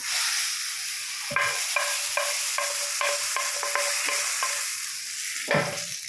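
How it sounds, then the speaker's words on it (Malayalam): Fried mustard seeds go into a breadfruit curry with coconut milk, producing a continuous close sizzle, with a series of sharp utensil taps and a louder scrape near the end. "അപ്പം നമ്മൾ കടുവൊക്കെ വറുത്തത് ഇതിനകത്ത് ഒഴിക്കുകയാണ്."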